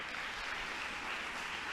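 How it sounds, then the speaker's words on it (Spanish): A church congregation applauding the Lord, a dense steady wash of clapping from a crowd that fills the room evenly with no voices over it. "¿Cuántos le aplauden al Señor por esto,"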